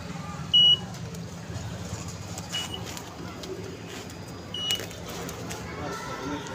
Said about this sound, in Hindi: अब ये देखिए मशीन बीप करने लगी।